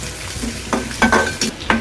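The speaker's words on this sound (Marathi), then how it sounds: "हो कढीपत्ता तडतडलेला आहे आता त्यामध्ये फोडणीसाठी काय कांदा आणि कढीपत्ता" Onion and curry leaves hit hot tempering oil in a pan, giving brief bursts of sizzling and crackling in several short pulses over a low background, with no talk.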